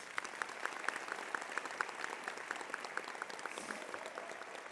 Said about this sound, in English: Can we give them all a round of applause, please?